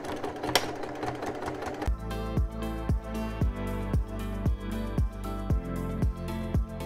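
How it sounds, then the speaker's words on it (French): A sewing machine stitches along piping on a backpack pocket, starting up after a brief pause and then running in a loud, close, steady rhythmic chatter of quick needle strokes. "je vais venir tout simplement le coudre sur la poche en faisant des coutures le long des passepoils"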